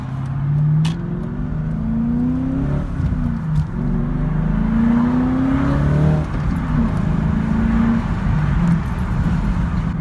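A 1999 BMW M Roadster drives along a road, its engine note rising and falling through gear changes, loud and close from inside the car.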